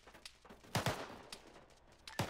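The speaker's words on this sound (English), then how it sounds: "Where's that fire coming from?" Gunfire in a military video game: scattered, fairly distant shots and short bursts crack out a few times over a couple of seconds against a quiet background.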